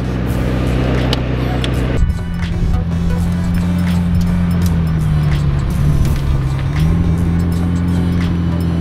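A McLaren Senna engine rumbles close by as the car creeps forward at low speed, a steady deep drone whose tone dips and shifts partway through.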